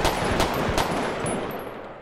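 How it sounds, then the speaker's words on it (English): Rapid gunfire in GTA V with the LSPDFR police mod, an armed suspect's shotgun and other weapons firing in a dense burst of several loud shots, trailing into echo and ambient noise. "He's still shooting. He's got like a shotgun."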